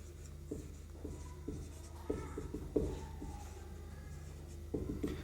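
Pen writing by hand on paper, soft scratchy strokes arriving in short irregular bursts with small taps between them, quiet and close over a steady low background hum.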